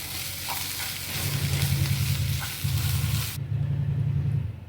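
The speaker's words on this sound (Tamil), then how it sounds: "கடைசியாக ஒரு ரெண்டு நிமிஷம் நல்லா வதக்க எடுத்துடலாம்" Ivy gourd stir-fried with pepper powder in a pan, giving a continuous close sizzle with stirring scrapes and a low burner hum, which cuts off near the end.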